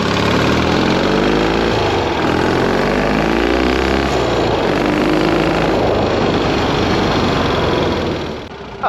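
Triumph Desert Sled motorcycle engine pulling hard in third gear, a loud continuous throaty roar with rising and steady revs for several seconds before easing off, with wind rush close to the rider.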